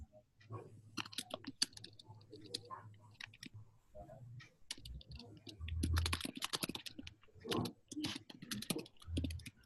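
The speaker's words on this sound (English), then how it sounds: "I hear typing." Soft keyboard typing clicks away in an uneven rhythm while people talk over it.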